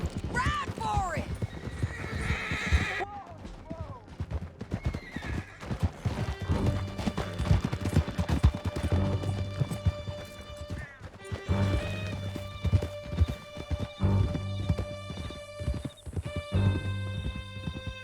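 Horses gallop in Red Dead Redemption 2: steady, close clip-clop hoofbeats with loud neighs and whinnies, under a musical score and occasional voices.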